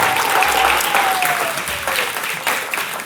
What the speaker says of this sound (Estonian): teeme ühe korra veel suure aplausi me kõigile vallalistele